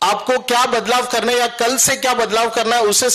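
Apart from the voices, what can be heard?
No everyday noises stand out.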